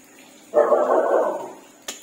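A dog gives a single drawn-out bark or whining yelp nearby, loud and lasting about a second, followed by a brief sharp knock in an otherwise quiet room.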